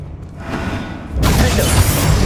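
A Confringo spell explodes in Hogwarts Legacy, a sudden loud boom cutting in partway through over a murky game backdrop and then rumbling on with heavy low-end crackle.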